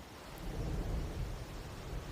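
Thunder and rain in the Wuthering Waves game, a low rolling rumble swelling under a steady hiss of rainfall, without voices.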